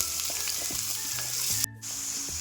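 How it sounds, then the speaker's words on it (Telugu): Chopped onion pieces fry in a spoonful of hot oil in a pan, a steady close sizzle with light utensil taps and scrapes, cutting out briefly near the end before resuming. "ఇలా ఉల్లిపాయ ముక్కల్ని ఫ్రై చేసుకుందాము"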